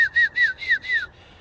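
A feed whistle blown to call Birmingham Roller pigeons down to land, five short rising-and-falling whistle notes in a quick even rhythm, clear and close, with no talking.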